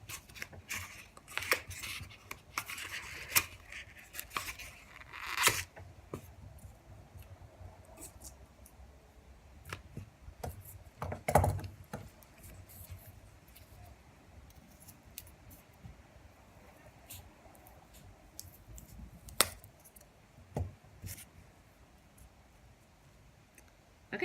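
A pumpkin decoration is cut in half, giving a series of sparse, sharp cutting snips and clicks, close and fairly quiet, with gaps of near silence between them.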